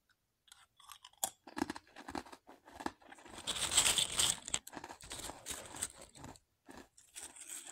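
Close, crisp crunching and chewing of Savoritz thin wheat crackers, with irregular bites and crumbly chews spread over several seconds and a denser crackly stretch in the middle, no talking.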